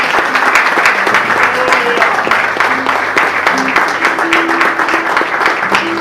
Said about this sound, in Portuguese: Então aplauda o nome do Senhor Jesus.